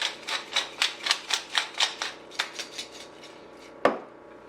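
Fresh black pepper is ground into a chicken pelau, a quick run of crisp ratcheting clicks close up that slows and ends with a single sharper knock.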